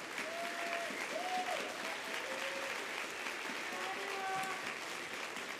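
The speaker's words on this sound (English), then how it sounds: "I want to ask the audience for a huge round of applause" Convention audience at an opening ceremony applauding volunteers, a continuous wash of clapping through the room with faint voices and whistles mixed in.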